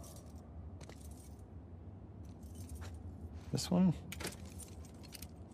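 Keys jangle in a game scene from The Last of Us Part II as a character tries several keys, with a short metallic rattle burst near the middle under quiet ambience and a brief spoken question.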